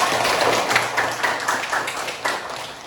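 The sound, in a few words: class clapping hands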